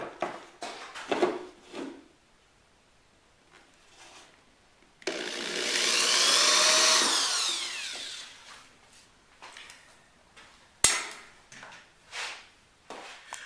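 A drill bores a hole in a guitar neck at the 12th fret, one loud sustained whir lasting about three seconds, framed by scattered workshop clicks and knocks.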